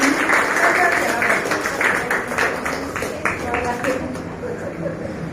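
Applause from an audience at a women's council event in Junagadh, greeting the first-place winner of a walk and style competition. Steady clapping runs throughout, mixed with talk from a voice over the crowd.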